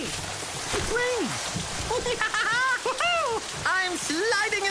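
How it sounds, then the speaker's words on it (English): Steady cartoon rain pours in a hiss under a character's excited, high-pitched voice, which talks and exclaims throughout. "Hey, it's raining!"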